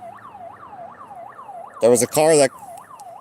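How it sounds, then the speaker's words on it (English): A rising and falling emergency siren wails steadily from a shop nearby, its repeating whoops carrying on in the background while a person talks briefly over it. "Do you hear that siren going off?"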